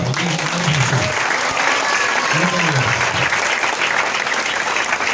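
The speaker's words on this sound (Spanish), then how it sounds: "Denle un aplauso al Señor." A church congregation bursts into sustained applause, dense steady clapping from a crowd in a hall, with a voice speaking over it early on.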